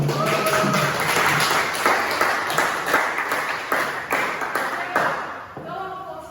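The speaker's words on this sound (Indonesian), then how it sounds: "Kita kasih aplaus." Classroom audience clapping together in a group, a dense burst of applause sustained for several seconds before tapering off near the end, moderately loud and close.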